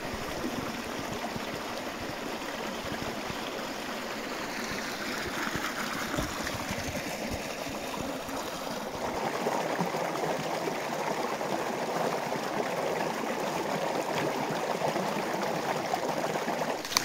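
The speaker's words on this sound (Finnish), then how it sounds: "Nyt on vettä niin paljon, että koskessa oikein kohissa" A small brook running high with water rushes through rapids on an October day, a continuous broad roar and splash that grows fuller and louder partway through, with no voices over it.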